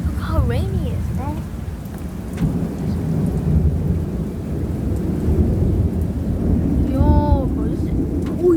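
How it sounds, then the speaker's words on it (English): A heavy thunderstorm in Australia: dense, steady downpour roars throughout, with rumbling thunder beneath and brief voices breaking through near the start and end. "Yo, bro, it's raining so hard."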